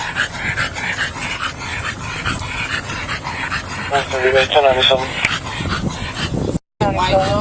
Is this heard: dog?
yes